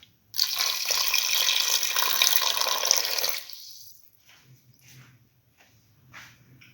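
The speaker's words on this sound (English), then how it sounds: "Pour in 200 ml of water." Water pours steadily into a cooking pot for about three seconds, then stops, leaving a few soft clinks and drips.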